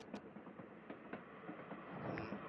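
A train rolls along in the cozy video game Little Witch in the Woods, giving a steady, faint rumble with soft rhythmic clicks from the wheels and no talking.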